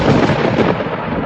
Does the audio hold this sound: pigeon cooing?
no